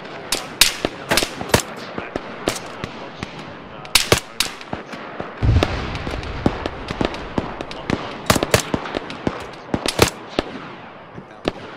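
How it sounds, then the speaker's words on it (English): Rapid bursts of rifle and machine-gun fire crackle through a desert firefight in the military game Arma 3, sharp cracks coming in irregular volleys with some shots close and others echoing from farther off. "They're firing south."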